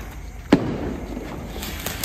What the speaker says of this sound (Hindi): नेक्स्ट पटाखा किटकैट बजाते।